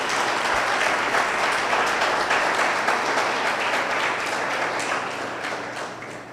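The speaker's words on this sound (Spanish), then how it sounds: "Dele un aplauso al Señor." Congregation at a church service applauding for the Lord, a dense, steady wash of many hands clapping that holds strong throughout and fades slightly toward the end.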